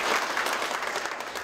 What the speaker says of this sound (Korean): 열띤 박수와 함께 그의 강의가 시작됐다